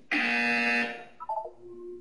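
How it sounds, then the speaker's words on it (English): Electronic buzzer in Portal 2: one loud sustained harsh buzz lasting under a second, followed by softer descending tones. "You will hear a buzzer."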